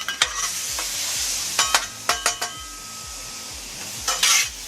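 Garlic butter shrimp sauce sizzles and splatters on a 17-inch Blackstone griddle, with sharp spatter pops and metal utensil clicks over a loud, steady hiss and a low rhythmic rumble underneath, without any talk.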